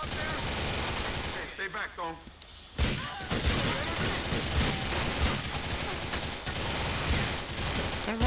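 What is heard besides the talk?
gunfire in video game GTA 4 The Ballad of Gay Tony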